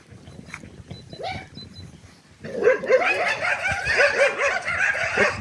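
Several dogs bark and yip in quick, overlapping bursts that grow louder partway through, with faint background noise early on.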